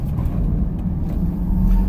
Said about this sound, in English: driving the 2010 Honda CR-V